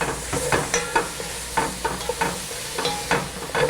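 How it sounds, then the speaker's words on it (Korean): Dried pollack with garlic and radish stir-frying in a pot for pollack soup, a close crackling sizzle with rhythmic scraping stirs every half second or so, no talking. "좀 볶아주세요. 그 다음에 무를 넣고 같이 넣어주세요."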